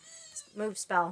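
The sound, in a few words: little kittens mewing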